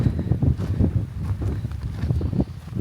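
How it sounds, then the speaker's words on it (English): Strong, gusty wind at a campsite on the Isle of Skye buffets the microphone, a continuous low rumble with irregular thumping gusts. "It is very windy."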